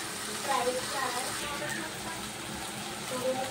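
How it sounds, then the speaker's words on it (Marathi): Chopped onion and tomato sauté in a pan, giving a steady, soft sizzling hiss like light rain, with a voice faintly heard at times. "कांदा, टोमॅटो व्यवस्थित लाल करून घेऊया आपण. परतून घेऊया छान, एकदम गुलाबी रंग येईपर्यंत."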